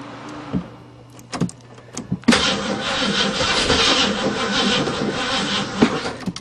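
A stored 1935 Mercedes, left sitting for seven years, is cranked over with a few short starter bursts before the engine catches and settles into a steady, loud idle with no talking.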